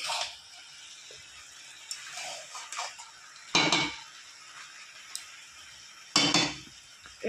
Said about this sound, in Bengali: এইভাবেই আমি অল্প আঁচে ঢাকনি দিয়ে দিয়ে ভাজা ভাজা করব বাঁধাকপি